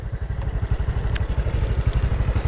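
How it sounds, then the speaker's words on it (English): A motorbike left running on a rural road in Mae Hong Son, Thailand, after its rider jumped off, chugs at a loud, close idle in a fast, even pulse with a faint clink or two and no speech. "Engine's still running."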